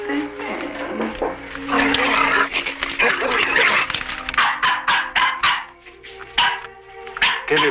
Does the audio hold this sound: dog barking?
yes